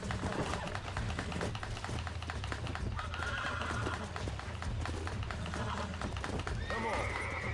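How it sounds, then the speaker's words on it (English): A horse in the Western video game Red Dead Redemption whinnies and its hooves clip-clop, loud and continuous under a steady layer of game sound and ambience. "Gonna ride this horse back to Bonnie."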